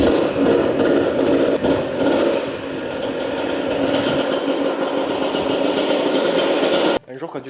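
Kawasaki KX 125 dirt bike from 2019, a two-stroke engine running loud and steady close by after being kicked over, with a dense buzzing drone that holds for about seven seconds before cutting off abruptly.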